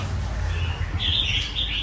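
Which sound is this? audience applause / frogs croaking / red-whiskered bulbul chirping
red-whiskered bulbul chirping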